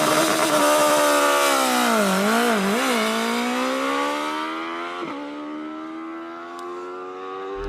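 BMW S1000RR motorcycle launching hard on launch control, its engine screaming loud and close through a rising rev sweep with a brief dip and recovery, then holding high revs as it pulls away and fades slightly.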